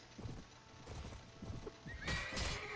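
Horses in the Mount and Blade video game gallop with steady clip-clopping hooves, a whinny rising near the end over the rumbling hoofbeats.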